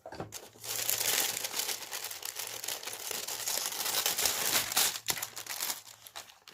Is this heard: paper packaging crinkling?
yes